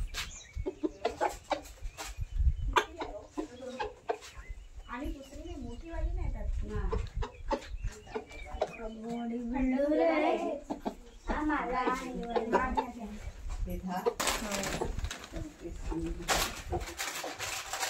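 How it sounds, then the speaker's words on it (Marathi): A rooster clucking and calling close by, a run of throaty clucks and crowing-like bursts in the middle, with people talking around it and outdoor noise. "कोंबडा बघा कसला खतरनाक आहे."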